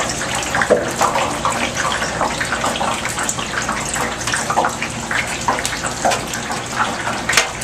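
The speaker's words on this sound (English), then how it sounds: "you're just going to force it through into your boiling water underneath" Spaetzle batter pressed through into a pot of boiling salted water, giving a continuous bubbling, splashing rush of water, steady and fairly loud throughout with no voices.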